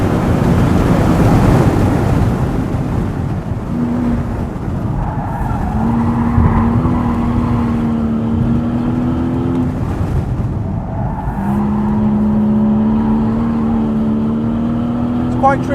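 A 2012 Porsche 911 Carrera (991) or 2013 Boxster S is pushed hard around a track. The engine note swells and drops through repeated gear changes under steady wind and road roar while a voice talks over it.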